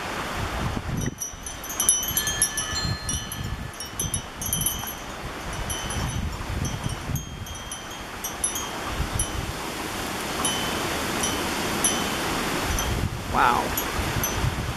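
Gusty wind of a rainy November storm by a creek buffets the microphone in a steady roar, with rustling and rushing noise throughout, swelling and easing in waves.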